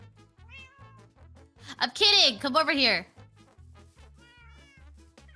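Cats meowing in the Minecraft video game, a few short game meows over a rhythmic pulsing backing beat, with a voice talking in the middle.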